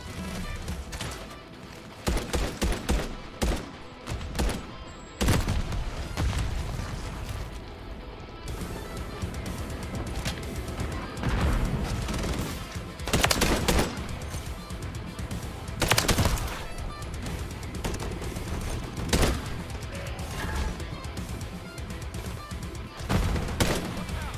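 Rapid automatic gunfire from a first-person shooter video game, with dense bursts of shots and loud cracks repeating nearly nonstop, close and loud throughout.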